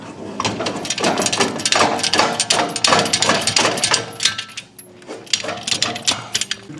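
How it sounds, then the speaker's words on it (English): A steel pin is worked loose from a welded quarter-inch steel plate mount on a welding skid, giving a close run of sharp metallic clanks, knocks and rattles at an irregular rhythm throughout. "if I pull this pin and then I pull this out"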